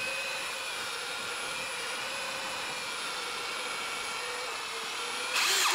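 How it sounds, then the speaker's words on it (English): Drill fitted with a scrubber brush cleaning tile grout, a steady close high whine running throughout and growing louder at the very end. "I'm gonna use the drill scrubby thing for like this little quadrant"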